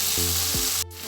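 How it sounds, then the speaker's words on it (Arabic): Fish pieces sizzling in a hot frying pan, a steady close frying hiss with a brief stir before it drops off near the end. "انا جبت السمك اهو هنا في الطاسه اهو، وهبدا اشوحه كده"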